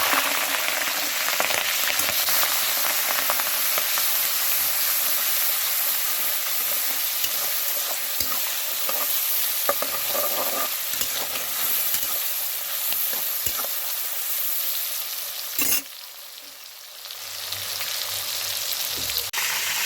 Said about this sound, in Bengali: তেল বসিয়েছি চিংড়ি মাছটাকে ভেজে নেব